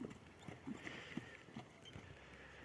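A large horse being ridden for sale is heard as a string of soft, evenly spaced hoof clip-clops on the ground, fairly close but quiet, with faint outdoor background.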